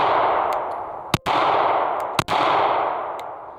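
Two sharp pistol shots fired one-handed at a range, about a second apart, each a loud, close crack over steady background roar, with no talk.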